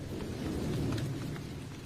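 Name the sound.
rain falling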